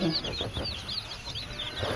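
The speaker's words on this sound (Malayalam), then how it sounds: "പിന്നെ രണ്ടാഴ്ച പ്രായമുള്ള കോഴിക്കുഞ്ഞുങ്ങളുണ്ട്" Two-week-old spotted chicks peeping in rapid, high chirps, a busy continuous chorus close by.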